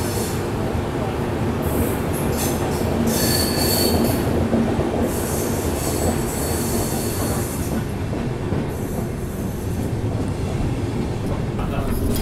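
A Bangalore to Chennai double decker express train pulling into its first halt near Bangalore Cantonment, heard from inside a coach as a loud continuous rumble with wheel squeals and rail clatter, faint voices in the background.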